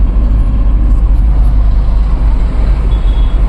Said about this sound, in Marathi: हे आहे आपली एलंडी फाटा ते सणसवाडी रोडची ट्रॅफिक